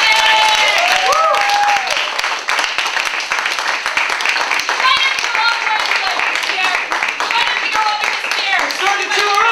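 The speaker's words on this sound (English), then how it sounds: "while we all start clapping for Jeff because it's fun to clap for people" Audience at a Toys for Tots fundraiser event clapping and cheering continuously, a dense loud applause with whoops and crowd voices mixed throughout.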